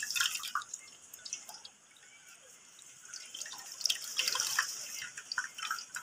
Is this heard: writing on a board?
no